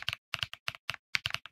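Rapid mechanical keyboard typing, crisp clacky keystrokes in uneven bursts, close up with no voices.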